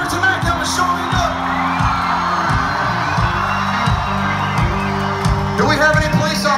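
At a country concert, a large crowd cheers and whoops steadily in honor of a fallen firefighter, a dense roar of shouts and yells sustained throughout under a rhythmic musical pulse.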